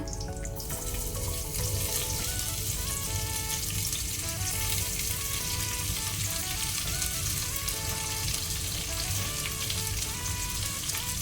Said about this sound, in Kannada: ಈಗ ಈರುಳ್ಳಿಯನ್ನು ನಾವು ಡಾರ್ಕ್ ಬ್ರೌನ್ ಆಗೋ ತನಕ ಫ್ರೈ ಮಾಡಿಕೊಳ್ಬೇಕು